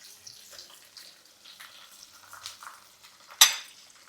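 Ginger dropped into hot oil, a faint crackling fry that bursts into a sudden sharp sizzle near the end.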